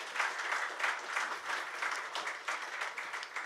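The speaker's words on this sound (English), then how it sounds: "please have a round of applause for the people over here" Faint, distant applause from an audience at a research report launch event, a continuous even wash of many hands clapping with no break.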